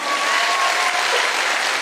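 An audience gives a short, dense burst of loud clapping that fills the moment without a break.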